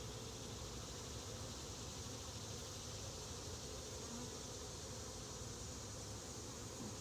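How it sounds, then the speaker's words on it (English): Honey bees buzz steadily around a small opening in a hive during an open inspection, a dense, even hum filling the space without pause and with no voices. "bees are choosing to go in and out of it"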